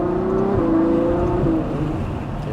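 A car under acceleration with paddle-shift gears holds a loud, close engine drone, stepping down in pitch at a quick, seamless gear change before pulling on steadily.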